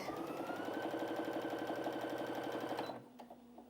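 A Brother Innov-is A50 sewing machine runs at top speed with a steady, fast, loud mechanical whir, then stops abruptly near the end, leaving a quiet hum.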